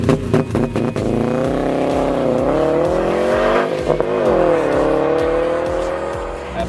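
A 2012 Subaru Impreza WRX with a performance axle-back exhaust revs and accelerates loudly and close, its raspy engine note sweeping up and down through several pulls with no talking.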